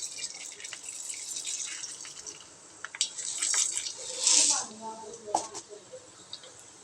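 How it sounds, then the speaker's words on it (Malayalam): Mustard seeds sputter in hot sesame oil for a bitter gourd pickle, giving a steady close hiss with scattered sharp crackles and pops, most of them bunched in the middle. "കടുക് പൊട്ടി കഴിയുമ്പോൾ"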